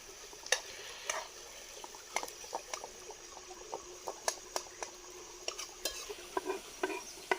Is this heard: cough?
no